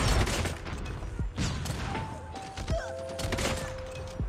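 Sniper rifle fire in the mobile shooter COD Mobile, a Kilo sniper: several heavy shots land as thumping bursts across the clip, packed with dense gunfight noise and clattering game effects.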